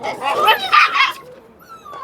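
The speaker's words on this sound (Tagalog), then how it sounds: "so ayun mga kajuit apurado na sila tahol ng tahol" Several dogs barking and yipping eagerly before feeding, close and excited in a quick burst, then trailing off into faint whines.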